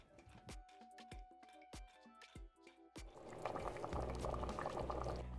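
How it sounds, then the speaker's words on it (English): A pot of pumpkin soup sputters and pops at first with sharp, spaced bubbling bursts, then settles into a dense, steady rolling boil, close and moderately loud. "And we're going to bring this to a boil."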